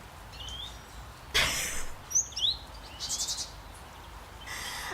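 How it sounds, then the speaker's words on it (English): Several birds chirp and tweet in short high calls against a steady hiss of rain, with a few bursts of louder rustling noise. "Yeah, bird sounds."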